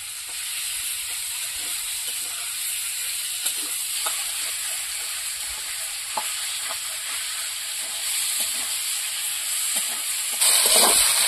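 Potatoes sizzle steadily while being sautéed in a pan for a Sundarbans-style Sona Bogo fish curry, a continuous frying hiss broken by faint stirring scrapes, with the sizzle swelling louder near the end.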